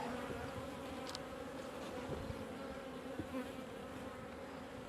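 Honey bees buzz around a hive during winter preparation in October, a steady close drone of many wings holding level throughout, with a couple of brief nearer passes and no talk.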